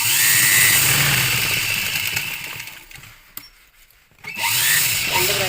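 A sewing machine running fast while stitching the shoulder seam of a blouse, a loud whirring buzz that slows and drops out briefly near the end before starting up again close by.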